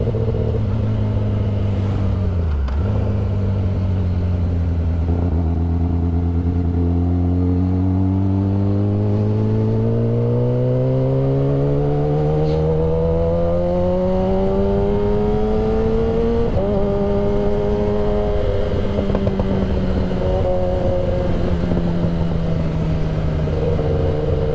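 Motor vehicle engines idling and revving in a cramped parking area as a scooter pulls out of a tight spot, steady rising and falling engine drone throughout, close and loud.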